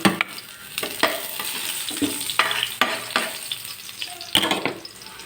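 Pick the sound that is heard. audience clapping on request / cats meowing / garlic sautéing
garlic sautéing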